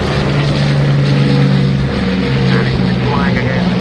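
A propeller aircraft drones loudly and steadily close by, its engine hum holding constant with slight shifts in pitch.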